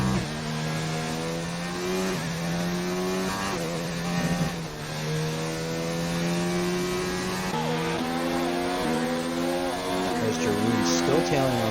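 Race car engines in a racing video game howl and rev as the cars battle into a corner, with rising and falling pitch sweeps that run continuously and loudly under a commentator's voice.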